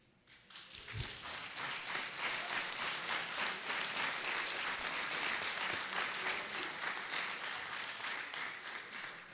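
An audience claps through the 2014 Hartford State of the City address, the sound building quickly into sustained, close applause with a few sharp individual claps, then easing off slightly near the end.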